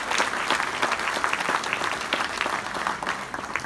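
Audience clapping at a conference in Castelmaurou, a continuous patter of many hands with distinct sharp claps, moderately close, without talk.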